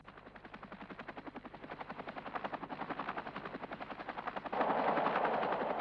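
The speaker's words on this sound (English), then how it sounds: "The one helicopter which really proved master of the anti-tank mission in the Gulf was the McDonnell Douglas Apache." A McDonnell Douglas Apache attack helicopter thumps loudly and steadily with rapid rotor chopping, rising slightly in intensity and growing rougher and louder near the end, with no voices.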